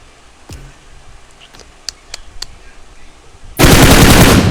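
Loud, sustained automatic gunfire from a video game shooter erupts at the end after a few quieter sharp shots and faint background voices.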